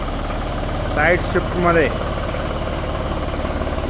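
An Ace Veer mini tractor with a 27 HP Mitsubishi engine idling at a close, steady low hum throughout, while someone speaks briefly over it.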